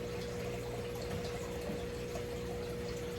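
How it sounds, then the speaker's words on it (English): Water siphoned through hoses out of a 150-gallon turtle tank: a steady, continuous gushing and pump-like hum with no breaks and no voices. "the hoses need to stay under the water at all times so you can keep the siphon going"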